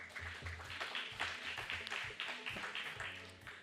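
Applause from an audience at a business sustainability forum, a moderate patter of many hands clapping steadily, heard at a distance and fairly quiet.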